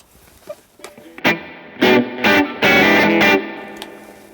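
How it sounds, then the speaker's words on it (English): A few distorted electric guitar chords through a guitar amp plugin ring out, with a springy, splashy reverb tail from its built-in spring reverb behind each hit; no talking. "You've even got a spring reverb built into this"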